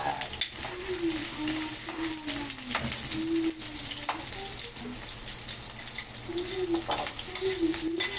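Garlic and onion sauté in cooking oil for ginataang bendunggo, a steady close sizzle broken by scraping stirs and light utensil knocks, with a low hum underneath.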